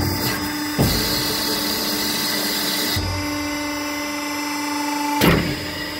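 An ACCURL hydraulic swing beam shear with a Rexroth hydraulic system and Siemens motor raises its beam, a steady mechanical hum with tonal whine that shifts in pitch partway through, broken by brief clunks near the start and end.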